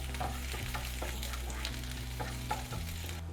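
Ginger and green chili fry in a pan, with a steady close-up sizzle and crackle, scattered spatters and stirring scrapes, and a low electric hum running beneath.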